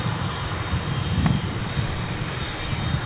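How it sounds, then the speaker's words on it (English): A Boeing 787-9 Dreamliner jet from Auckland approaches the runway at DFW International Airport, its engines a steady, broad roar holding at even loudness throughout with no talk. "It's a 787-9 Dreamliner. It left Auckland 12 hours and 47 minutes ago."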